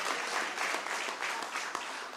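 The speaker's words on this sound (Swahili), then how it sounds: "Mjipigie makofi jameni." Audience applause after a remark about money raised by ordinary local hustlers, a steady dense patter of clapping that holds at an even level throughout, with no speech over it.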